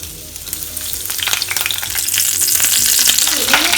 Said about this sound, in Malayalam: ഇനി നമുക്ക് ഈ സെയിം എണ്ണയിലേക്ക് തന്നെ കുറച്ച് ഗ്രീൻ ചില്ലിയാണ് ഫ്രൈ ചെയ്തെടുക്കുന്നത്.